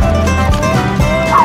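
A small dog barks close by, giving a few sharp, high yips in quick succession over faint room background, with no clear talk.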